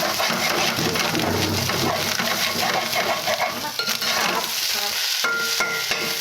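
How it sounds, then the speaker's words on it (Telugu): Fish egg curry frying and being stirred in a pan, a loud continuous sizzle with scraping stir strokes, close up, ending in a few sharp clinks. "ఇలా ఫ్రై అయినప్పుడు చాలా బాగుంటుంది ఈ కర్రీ అయితే"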